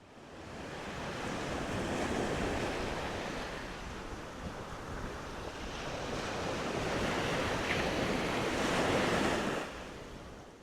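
Waves wash in at Whale Cove Beach on Cape Breton Island, a broad continuous surf roar rising and falling over ten seconds, mixed with wind buffeting the microphone, no voices.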